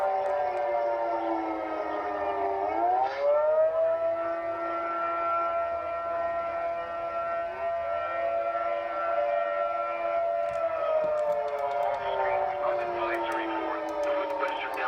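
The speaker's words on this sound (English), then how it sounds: "Sirens are still activated." Civil defense tornado warning sirens wail during a severe storm in central Colorado. A long sustained tone rises and falls in pitch across the clip, steady and moderately distant, with faint voices underneath.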